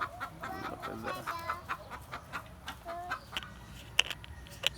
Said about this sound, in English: The noisy chicken at the front.